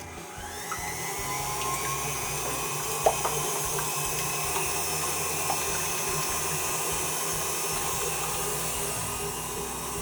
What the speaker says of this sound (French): J'installe la cuve sur le batteur avec le fouet et je mets les blancs à monter.